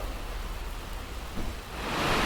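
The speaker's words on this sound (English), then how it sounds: "it's decided to rain and it's a little noisy in here" Rain falls on a garage roof as a broad, steady hiss that swells louder toward the end, heard from inside with no talking.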